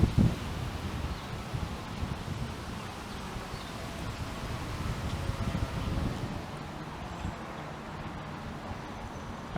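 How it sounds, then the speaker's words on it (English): Wind blows along a Toronto street near King West, a faint, steady rushing and rustle with low rumbling city noise beneath it. "it is certainly fairly windy right now"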